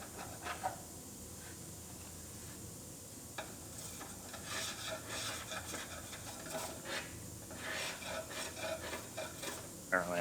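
Paint being scraped off the B pillar of a T-boned Honda CR-V to expose spot welds, heard as soft, repeated scratchy rasping strokes over a steady background, moderately close.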